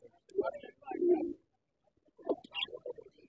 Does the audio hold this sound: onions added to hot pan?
no